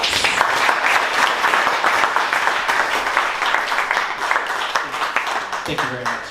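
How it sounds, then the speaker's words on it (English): Audience applause for a speaker at a 2022 veterans event, a dense, steady wash of clapping across the room that holds at a loud level, with a brief voice or tone entering near the end. "Let's give him a round of applause."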